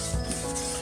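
Plastic headlight being hand sanded with 400 grit sandpaper: a brief, close, steady dry rubbing scratch with no voices.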